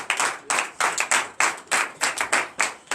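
A church congregation at a morning prayer service claps together in a steady, fairly fast rhythm of sharp, bright hand claps, loud and close, with no talking.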